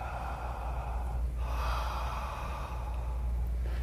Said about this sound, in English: I do it with a relaxed jaw, and the breath just simply in and out of the mouth